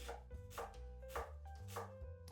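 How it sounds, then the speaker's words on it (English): A knife dices half a white onion on a cutting board, giving four clear, evenly spaced chopping strokes with soft scraping in between, close and fairly quiet, with no voices. "That includes dicing half of a white onion"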